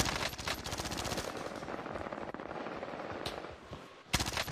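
Sustained automatic gunfire from an online shooter video game, rapid bursts running nearly continuously with a brief lull near the end before another burst, fairly loud with no talk over it.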